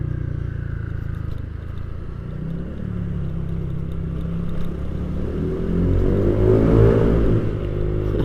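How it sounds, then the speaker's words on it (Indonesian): A motorcycle engine revs up while riding under the Semanggi overpass in Jakarta, a steady low drone that swells louder for a couple of seconds before settling back, heard up close with road noise. "Kita geber dikit aja lah."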